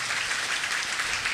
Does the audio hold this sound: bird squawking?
no